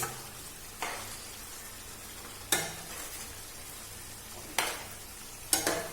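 Fried paneer cubes tossed into a pan and stirred, giving a soft sizzle broken by four sharp scraping spatula strokes spaced a second or two apart.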